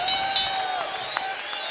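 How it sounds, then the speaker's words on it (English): A crowd at a ballroom boxing event cheers and applauds as a fight goes the distance, a brief, moderately loud roar with scattered claps. "Crowd here standing in the ballroom as James Baker and Guadalupe Rosales go the distance."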